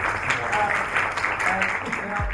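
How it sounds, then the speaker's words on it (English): An audience at a climate change conference in Islamabad claps for the event organizers, giving a dense, steady wash of applause that stays even throughout. "I would like you to clap for the organizers"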